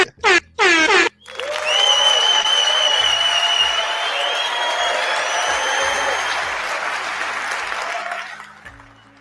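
An audience gives a speaker a sustained round of applause at a study presentation, a steady wash of clapping lasting several seconds with air-horn blasts riding on top, preceded by short horn toots.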